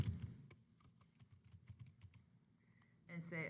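Close, quiet keystrokes tap on a computer keyboard in a quick irregular run, pausing briefly before a last short flurry.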